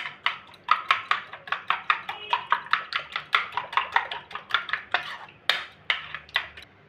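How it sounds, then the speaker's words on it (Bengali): Two eggs with a pinch of salt being whisked briskly in a bowl, a quick, steady run of sharp clinking taps against the bowl's side, close and clear with no talking. "ডিমটাকে ভালো করে ফেটে নেব"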